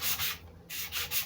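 Sandpaper rubbing back and forth on a Les Paul-style wooden guitar body in short rhythmic strokes, close up, with a brief pause midway.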